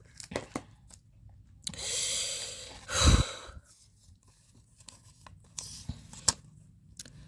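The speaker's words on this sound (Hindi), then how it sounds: "last shuffle" Tarot cards being shuffled, with soft papery riffles and a louder riffling burst midway, followed by scattered light taps and rustles, close and quiet.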